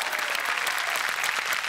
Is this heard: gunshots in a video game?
no